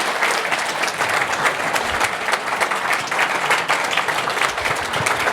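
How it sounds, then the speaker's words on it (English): A veterans salute event crowd gives sustained, loud, steady applause for an admiral after a talk, dense clapping holding evenly throughout without any voices on top. "let's give the Admiral a round of applause."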